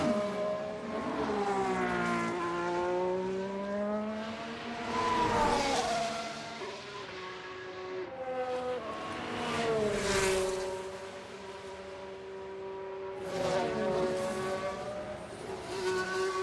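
A video-game race car zigzags to warm its tires, its engine note swooping up and down through repeated revs, with tire squeals and rushing passes rising and fading over several seconds, no talk.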